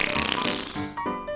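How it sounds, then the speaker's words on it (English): A comic fart sound effect representing a fart enhanced by fart powder, a single drawn-out, buzzy, rasping blast that wavers and fades over about a second and a half, heard alone and close. "It makes a silly fart like this into something awesome like this."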